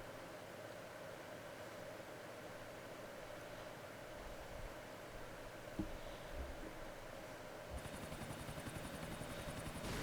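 Helicopter sitting on a high helipad in GTA IV, a steady whooshing rotor drone with broadband noise throughout, a brief thump midway, and a brighter, harsher whine entering for the last couple of seconds.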